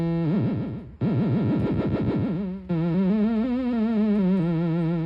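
A buzzy synthesizer tone from a Rat King Modular CELL module, frequency-modulated by an LFO sine wave, wobbles rapidly up and down in pitch, cuts out briefly, then returns with a slower, gentler vibrato.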